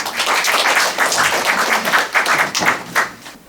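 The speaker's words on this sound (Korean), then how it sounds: "박수로 맞아주시기 바랍니다" An audience at a 2011 literary award ceremony and book launch claps to welcome a speaker to the stage, a loud, close burst of many hands with uneven rhythmic pulses that thins out slightly toward the end.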